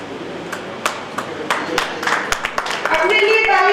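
Audience clapping at the Bikaner city foundation day ceremony, starting as scattered separate claps and building into denser applause, with a voice heard over it.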